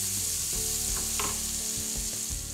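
Onions sizzle and fry steadily in a pan as they caramelize and brown, a continuous close crackling hiss with small pops and the occasional scrape, no voices.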